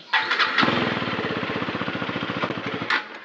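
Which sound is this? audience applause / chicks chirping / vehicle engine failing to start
vehicle engine failing to start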